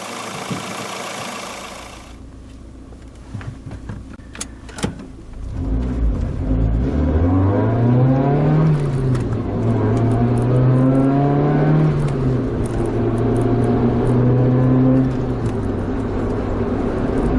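A Toyota AE111 Levin's 1600cc engine with a six-speed manual starts up and revs, rising and falling in pitch several times, loud and close, with a steady rumble underneath.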